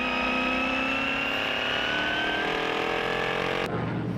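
Formula 5000 race cars at Phillip Island in the 2016 Trans Tasman Challenge roar together in close wheel-to-wheel racing, a loud, continuous high-revving engine howl with slowly shifting pitch that cuts off abruptly near the end.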